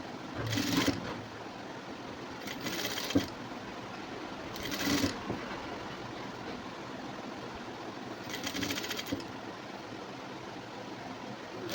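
A sewing machine stitches a high neck blouse in several short bursts, each lasting about half a second, separated by quieter pauses with faint room noise. The bursts are moderately close and come without talk.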